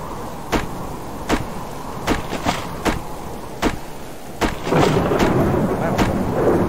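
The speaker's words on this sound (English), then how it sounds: "That storm is cool out. A little too loud there." Sharp thunder cracks strike at regular intervals through a storm in the survival video game Subsistence, each loud and close, with rain building into a dense roar toward the end.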